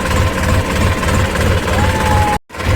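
A tractor engine drones steadily and loudly as the tractor is loaded on a farm in the rain. It runs with a low rhythmic knock, and the sound briefly drops out near the end.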